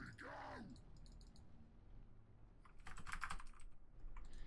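Fast clattering keystrokes on a computer keyboard during an online multiplayer strategy game match, heard as irregular bursts of clicks amid steady background noise, with a voice briefly audible.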